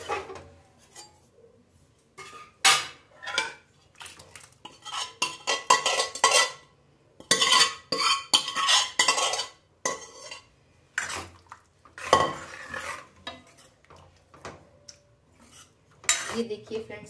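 Paneer masala gravy scraped and stirred into a kadai, with repeated metal clanks and scrapes of a spoon against the pan in irregular bursts, close and fairly loud, no talking.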